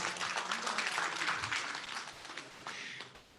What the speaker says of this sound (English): Let's give Tim a round of applause.